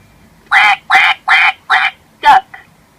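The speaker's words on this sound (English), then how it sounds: "Duck." Five loud, evenly spaced duck quacks from a children's animal-sound toy, close and clear, each one a short nasal burst followed by a small trailing squawk.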